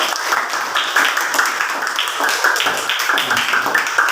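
A small group claps for a few seconds, a steady patter of hand claps with no talking.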